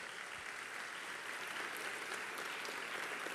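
A church congregation in Brazil applauds, an even, continuous spread of many hands clapping, heard from some distance and fairly soft, with no speech over it.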